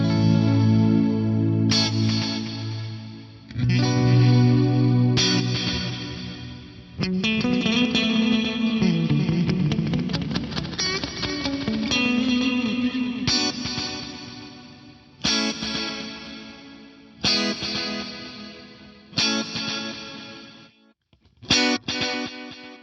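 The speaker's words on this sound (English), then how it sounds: "Let's have a listen to delay into reverb." Electric guitar chords ring out through a delay pedal feeding into a reverb, each phrase repeating, washed in lush reverb, with long echoing trails between strums.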